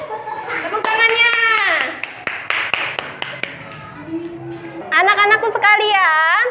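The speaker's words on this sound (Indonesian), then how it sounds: "Jangan lupa tepuk tangan untuk kelompok 3." Schoolchildren in a classroom clap for a group that has just presented, a patter of scattered sharp claps between bursts of excited, sing-song children's voices.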